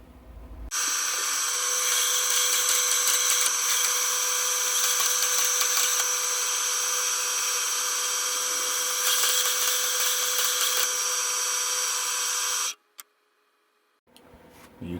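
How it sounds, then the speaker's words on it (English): A 2x72 belt grinder shaping a handmade custom knife handle, a steady loud whine and hum running for about twelve seconds before cutting off abruptly, with a brief restart at the end. "then we'll get onto the belt grinder"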